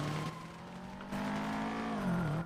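Video game car engine accelerating and revving steadily, a loud continuous motor tone with its pitch shifting and climbing near the end, heard alone without talk.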